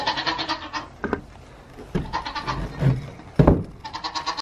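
Several goats bleat in short, uneven bursts, some overlapping, at a moderate distance against a quiet background.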